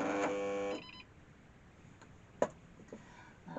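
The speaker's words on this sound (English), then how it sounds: "That was me bobbin being funny." A sewing machine runs in a brief, fast mechanical burst, then stops, leaving faint ticks and a single sharp click, with its bobbin misbehaving.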